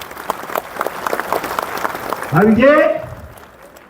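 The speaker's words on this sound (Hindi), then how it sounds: "ब्लू डायमंड के लिए जोरदार ताली बजाइए।" Crowd applause at a motivational training event for Blue Diamond rank achievers, continuous clapping with cheering, a voice speaking briefly over it.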